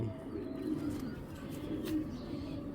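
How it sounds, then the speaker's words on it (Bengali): A female racing pigeon coos close by, giving a few soft, low throaty coos over quiet background noise. "এটা মাদি কবুতর"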